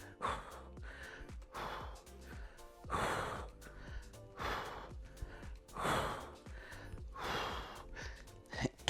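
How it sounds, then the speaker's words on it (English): Heavy, rhythmic breathing during an ab exercise, with sharp gasping exhales repeating roughly every second and a half, close and loud, with no speech. "Listen to the breathing."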